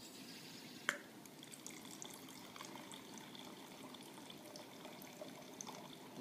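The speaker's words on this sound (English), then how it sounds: "This definitely seems to be pouring better this time." Quiet wine trickling and dripping into a glass through a Coravin, a soft steady pour with one brief clink near the start, no voices.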